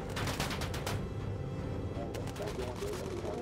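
Rapid bursts of gunfire from a bomber's guns shooting down enemy planes in the game Bomber Crew, rattling continuously at a fairly loud level beneath a busy layer of game sound.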